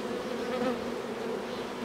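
Honeybees from a populous hive colony hum in a dense, continuous buzz at close range, steady throughout with slight swells in pitch, no voices present.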